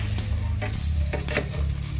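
Shrimp frying in garlic butter in a pan is stirred, a steady close sizzle with several scraping, clinking stirs of the utensil over a continuous low hum.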